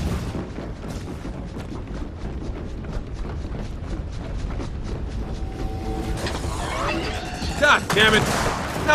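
Sniper and other gunfire in the Gears of War 4 campaign, a steady run of sharp cracks through most of the stretch, with a heavier burst of blasts near the end; voices talk in the mix.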